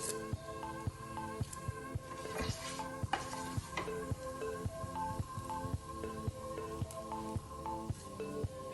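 Bay leaf, black cardamom and cumin seeds sizzle in hot oil for a Gujarati fresh turmeric curry, with a steady close crackle broken by sharp, regular clinks of a spoon stirring against the pan.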